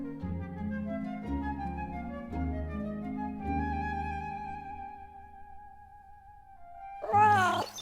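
A cat meows once near the end, a short, fairly loud call rising over steady, gentle instrumental music.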